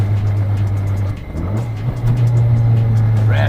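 A Toyota AE86 engine hums close inside the cabin, dips briefly, then rises in a quick throttle blip as the driver rev-matches a downshift and settles into a higher steady drone.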